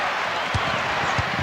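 Basketball arena crowd at a Bulls–Knicks NBA game reacting to a missed Michael Jordan shot, a broad sustained roar and murmur filling the space with a few low thumps, steady and loud throughout.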